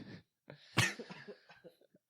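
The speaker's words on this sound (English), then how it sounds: "I seem to have a cough" A single close cough, followed by a few short throat sounds and breaths.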